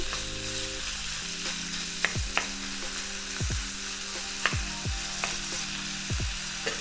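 Steak, pre-seasoned with salt, pepper, cumin and garlic, sears in hot oil for lomo saltado, giving a steady close sizzle broken by several sharp knocks and scrapes of a utensil against the pan, with no talking.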